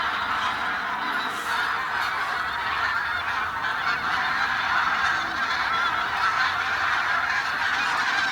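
A flock of greater white-fronted geese wintering on the grasslands, rice paddies and lakes of the Sihwa wetlands honks in a dense, continuous chorus of overlapping calls at a steady level throughout, with no talk.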